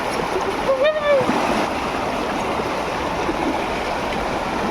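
Flood water rushing over a submerged village road beside farm fields, a loud, steady close wash of flowing water with a brief faint voice-like tone early on.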